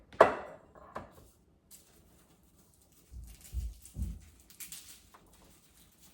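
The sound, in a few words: knife mincing garlic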